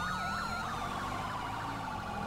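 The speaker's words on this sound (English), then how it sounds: "I hear a set of sirens." Police sirens wail loudly and continuously in a GTA roleplay game, rising and falling in a fast, close electronic sweep.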